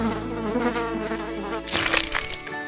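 A fly buzzes in a thin, wavering drone over soft music, ending with a brief snapping crackle.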